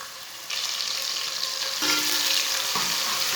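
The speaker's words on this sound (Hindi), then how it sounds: "1 बारीक कटा हुआ प्याज डाल लेंगे।" Finely chopped onion hits hot oil with cumin and coriander seeds, setting off a steady, loud sizzle that swells as the onion goes in, with occasional stirring scrapes over the constant frying hiss.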